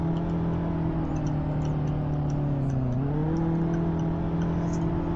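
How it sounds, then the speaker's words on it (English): Turbocharged car engine in the Roblox Greenville video game, a steady droning hum that dips briefly in pitch midway and then settles again, loud and continuous with no talking. "The turbo isn't too loud, but doesn't sound bad"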